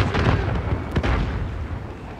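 Dense, rumbling blasts of RPG rockets fired and exploding in an online shooter video game, one sharper crack standing out amid the continuous roar.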